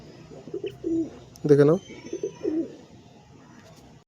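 A pair of Paschima Kalsira pigeons coo close by in a series of throaty, rolling phrases, one fuller coo standing out in the middle, as someone speaks briefly over them.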